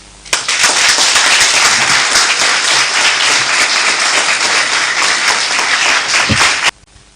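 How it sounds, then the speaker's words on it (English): Crowd at a running-mate unveiling event in Ghana bursting into loud, sustained applause after a speech, starting abruptly and cutting off sharply near the end. "I think she deserves another round of applause."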